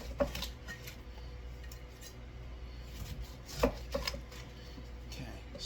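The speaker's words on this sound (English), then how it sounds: "So we're going to cut this down in little sections" A knife chops through a fresh pineapple into sections on a cutting board, with several sharp, close thuds spaced irregularly over faint background noise.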